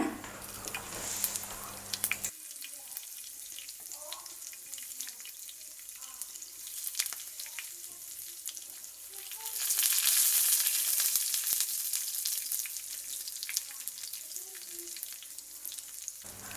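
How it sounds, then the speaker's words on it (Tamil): Hot oil sizzles steadily, with a brief burst of louder crackling partway through as fennel seeds, cloves, cinnamon, bay leaf, green chilli and curry leaves are added to the pan. "எண்ணெய் காஞ்சதும் அதில் அரை ஸ்பூன் சோம்பு கிராம்பு பட்டை பிரிஞ்சி இலை நறுக்கிய பச்சை மிளகாய் கருவேப்பிலை அதெல்லாம் போட்டு தாளிங்க"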